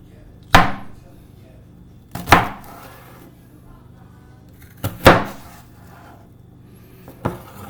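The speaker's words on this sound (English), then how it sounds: "Again, you're gonna cut the celery into strips." A knife cuts celery into strips on a board in four crisp, separate chops spread a few seconds apart, each sharp and close with a short decay, over a quiet kitchen background.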